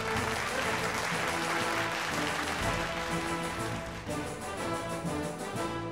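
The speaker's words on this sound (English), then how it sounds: "Please do put your hands together for NTPC Limited." An audience at a corporate employee excellence awards ceremony claps for a winning company, a dense, sustained wash of applause that holds steady throughout.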